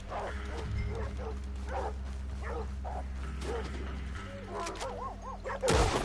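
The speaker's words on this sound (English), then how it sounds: "I'll keep these dogs at bay." Several dogs bark in quick repeated yaps over a droning low ambience in a video game, followed by a wavering whine and a sudden loud burst near the end.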